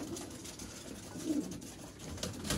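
Breeder pigeons from an Ustad Mian Nazir bloodline cooing softly in a loft, low murmuring coos repeating several times over a faint background hiss, with no voices.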